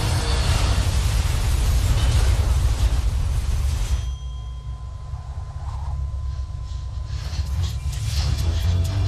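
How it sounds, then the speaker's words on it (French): A loud, rumbling blast from a British European Airways airliner crashing into a field, with heavy low-end roar sustained for several seconds, then settling into a quieter, lingering rumble with faint tones. "L'appareil s'est écrasé en plein champ,"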